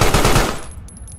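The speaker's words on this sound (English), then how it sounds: "Shooting up the bathroom stalls." Rapid gunfire rattles in a quick burst while shooting up bathroom stalls in the video game Carrion, loud and close, then cuts off into a brief fading tail.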